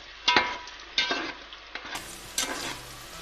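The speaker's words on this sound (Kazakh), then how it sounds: "Енді қайнап тұрған майға мына бауырсақты салып," Pieces of sweet Kazakh baursak dough are dropped into boiling oil, each one setting off a sharp burst of sizzling and bubbling, close and fairly quiet, with several separate bursts spaced through the stretch.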